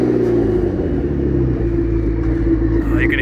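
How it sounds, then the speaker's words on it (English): Turbos on a broken, high-mileage supercar spooling down, heard as a loud, steady engine rumble close by with a faint rising whine near the end. "You can hear the turbos just kind of spooling down there."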